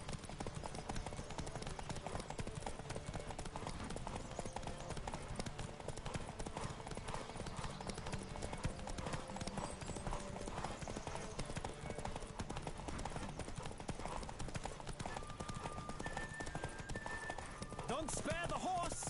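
Steady rhythmic galloping horse hooves in The Witcher 3: Wild Hunt run throughout, fast and continuous, layered with game-style ambience and occasional tonal background sounds.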